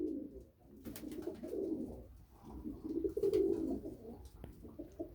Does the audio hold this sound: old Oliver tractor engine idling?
no